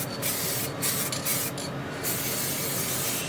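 Parts being sprayed in a workshop give a steady, broad hiss that runs the whole time, with a few brief louder bursts near the start and no talking.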